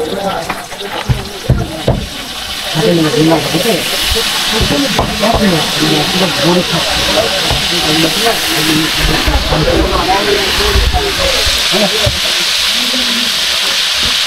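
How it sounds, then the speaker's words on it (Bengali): Octopus frying in oil at a seafood stall in Kuakata, a loud continuous hissing sizzle close up, with people talking over it. "এখন আমাদের অক্টোপাসগুলো ভাজি হচ্ছে।"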